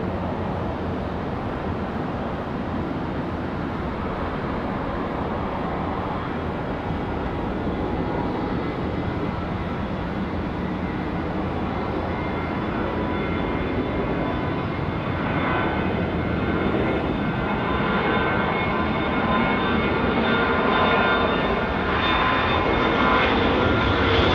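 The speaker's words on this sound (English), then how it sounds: "No, it sounds like a prop." A propeller airplane at Raleigh-Durham airport drones with a continuous broad engine roar, steady and fairly loud, growing slightly stronger near the end.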